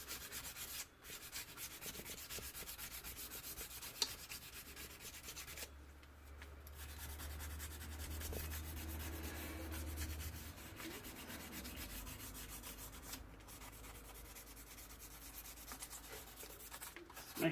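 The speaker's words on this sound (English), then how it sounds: "So a tiny bit of really thin sandpaper." Thin sandpaper rubs across the surface of a DQ200 DSG gearbox mechatronics unit in quick, steady strokes, a faint, continuous scratchy rasp with a brief pause partway through.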